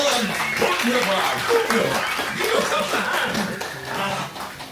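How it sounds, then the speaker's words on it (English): Audience at the Enchanted Tiki Room show at Disneyland clapping amid chuckles and laughter, scattered applause running under continuous talk from the show. "Applause, applause."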